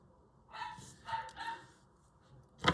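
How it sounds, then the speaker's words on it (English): A small dog barks outside while playing with a child: three short, moderately distant yapping bursts, followed by a louder, sharper noise at the very end. No one speaks. "You can hear his little bark."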